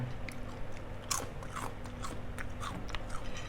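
Crispy, spicy Korean snack pieces are bitten and chewed close up, with a sharp crunch followed by a string of brittle crackling chews, loud and intimate with no talking.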